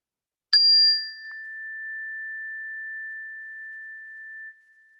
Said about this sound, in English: I will invite the bell to get us started.